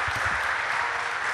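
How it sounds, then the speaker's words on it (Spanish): An audience at a year-end audio engineering society gathering applauds, a dense, even wash of clapping throughout the short stretch with no break. "vamos a darle un aplauso a este Dream Team,"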